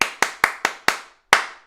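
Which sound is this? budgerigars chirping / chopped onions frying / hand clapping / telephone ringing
hand clapping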